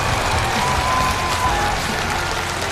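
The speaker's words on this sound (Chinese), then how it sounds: "我们再次的给他热烈的掌声" A studio audience at a televised brain-challenge competition show applauds, a dense, steady wash of clapping that stays loud and even for the whole stretch with no pauses.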